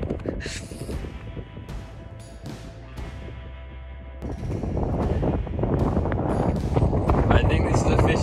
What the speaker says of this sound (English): I think this is officially the most intense headwind I've ever experienced in my life.